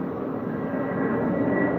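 An airplane overhead makes a continuous low rumbling drone that holds steady and swells slightly toward the end, with no talking.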